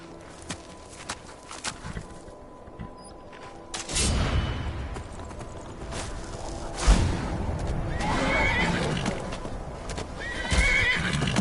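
A horse whinnies loudly amid clip-clopping hooves and shuffling in the game Skyrim, with scattered thumps and game-like effects around it.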